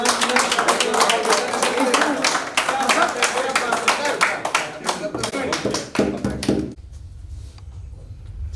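An audience at a school event claps in rapid, dense bursts that build and ripple, then stop abruptly, leaving a low hum with faint talk in the background.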